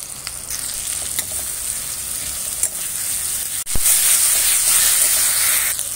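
Masala spice paste fries in a pan with a steady, close sizzle and hiss, interrupted by a brief clatter of stirring and followed by a sharper, brighter crackle as the frying continues.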